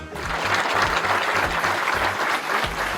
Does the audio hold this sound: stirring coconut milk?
no